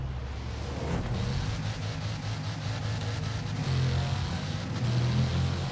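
A 2018 Bugatti Chiron accelerates hard on a drag run in Forza Horizon, its engine a steady loud roar with stepped shifts in pitch and brief gear-change dips, heard alone without talk.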